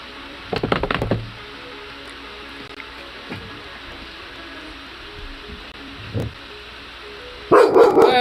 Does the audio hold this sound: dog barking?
yes